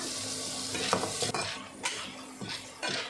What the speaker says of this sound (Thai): แล้วก็คนไปเรื่อยๆอย่างนี้มาเลยค่ะ ใช้ไฟอ่อนๆนะคะ